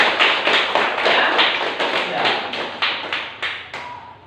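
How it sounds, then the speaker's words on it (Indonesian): A classroom of students claps in steady, evenly spaced beats, roughly two or three a second, loud and close for about four seconds with no talking over it. "Once more, give applause for your friend."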